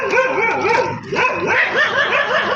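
Dogs bark and yip in a steady, overlapping chorus, fairly loud and close, with whiny, rising-and-falling cries running through the whole stretch.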